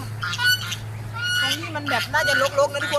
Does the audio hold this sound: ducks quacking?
yes